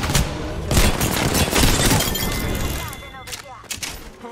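Apex Legends combat: dense automatic gunfire and crackling bursts from an Arc Star grenade, loud and close, thinning out toward the end into a few sharp electric zaps and isolated shots.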